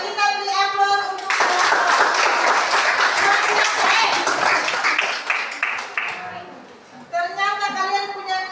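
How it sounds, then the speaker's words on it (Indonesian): Classroom applause from students following a physics group presentation on elasticity and Hooke's law, a dense wash of clapping lasting about six seconds between stretches of a talking voice. "Oke, kita beri aplaus untuk"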